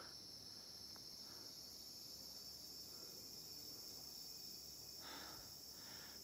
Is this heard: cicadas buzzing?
yes